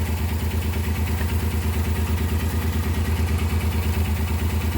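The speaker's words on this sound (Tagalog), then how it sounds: "Pero nagbabibrate yung ating makina" A multicab's engine idles steadily at close range, a continuous low throbbing drone with a rhythmic vibrating pulse and faint mechanical clatter, unchanging throughout with no talking.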